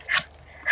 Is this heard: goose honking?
no